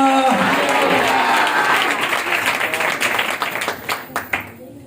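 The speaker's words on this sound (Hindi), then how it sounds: "ये खुशियों की तालियां जो है, मैं चाहता हूँ कि इसी तरह ये पूरा साल बजती रहे।" A burst of enthusiastic applause from a church congregation fades into scattered, individual claps that trail off.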